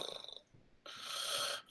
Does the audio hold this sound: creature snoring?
yes